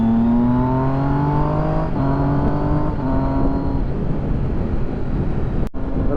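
A motorcycle engine revving up through gears without the clutch, rising pitch climbing then dropping at each shift, about three upshifts in a row, loud and close, with a sharp click near the end.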